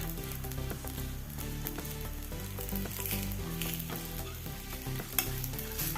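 Appam batter sizzles in a covered pan as it cooks, a steady, soft frying hiss that runs unbroken with no voices.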